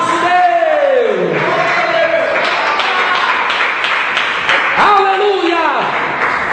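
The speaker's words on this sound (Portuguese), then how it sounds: "as palmas se engrandecem e exaltam o nosso Deus" A church congregation claps in praise during a worship service, a dense steady wash of applause mixed with loud sweeping shouts and cheering voices rising and falling over it.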